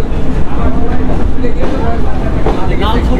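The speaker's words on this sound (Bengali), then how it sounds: "আমাদের লাল সবুজের পতাকার সেই ট্রেন আলমডাঙ্গা রেল স্টেশন থেকে ছেড়ে যাচ্ছি ঢাকার উদ্দেশ্যে" Chitra Express train pulling away from platform 1 at the old Alamdanga railway station, a steady loud rumble and rattle of the moving train throughout, with a voice talking over it.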